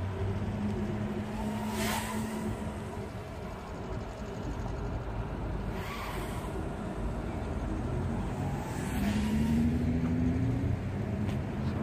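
A Zing 110 drone fitted with 2.3-inch Avan Babyhawk props flies nearby with a continuous buzzing motor whine that rises and falls with throttle, over steady outdoor background noise.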